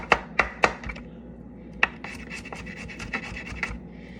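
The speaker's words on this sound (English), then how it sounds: "now I love to cut up my garlic real fine guys" Knife finely chopping garlic on a board in a kitchen, sharp taps in quick clusters followed by softer scattered cuts, close and clear with no talking.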